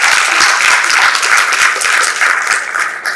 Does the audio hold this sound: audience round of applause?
yes